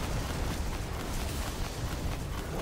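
Detonated plate explosion in the Destiny King's Fall raid, a dense, continuous roaring blast that fills the whole moment, loud and close, with no break or talk.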